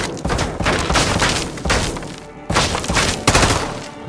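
Gunfire in Modern Warfare 2 during a room-clearing fight, two dense loud bursts of rapid shots with thumps and crashes, close and continuous, no talking over it.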